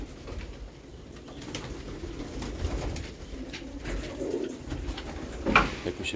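Łomża pigeons coo repeatedly at close range, soft low throaty calls overlapping in a loose rhythm, with a brief flutter of wings near the end.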